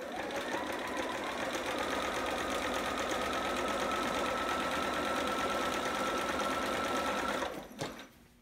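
A sewing machine runs nonstop at a steady, fast, dense whir, stitching a seam on a Riley long john sitter garment, loud and close for about seven seconds before it abruptly stops and goes quiet.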